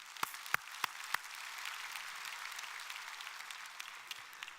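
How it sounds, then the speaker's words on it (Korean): Church congregation at a Sunday worship service applauds, a few sharp claps up front and then a soft, distant wash of clapping that continues quietly throughout. "할렐루야, 박수 드리겠습니다."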